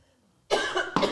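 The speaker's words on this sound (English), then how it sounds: "You're coughing right at my microphone." A person coughs right into a microphone: two sharp, loud bursts close together, the second quick and abrupt, with near-silence before them.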